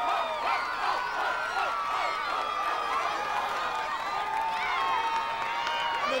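Arena crowd at a gladiator competition cheering and whooping at length, with shrill whistles and shouts layered over a dense roar, held at a steady level.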